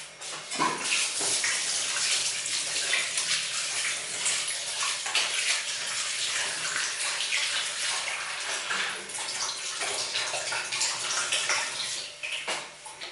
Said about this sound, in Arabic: نغسل انا يديا